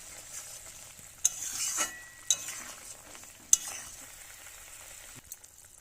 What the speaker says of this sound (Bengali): ঝোলটা ফুটছে। আমরা এবারে এটাকে নেড়ে চেড়ে নেব।